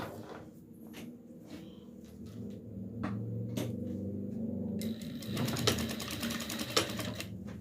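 Sewing machine stitching elastic onto a rag doll's hat, a quiet close rattling run of stitches with short pauses and brief bursts of back-stitching.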